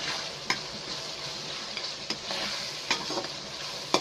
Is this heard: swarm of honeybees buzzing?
no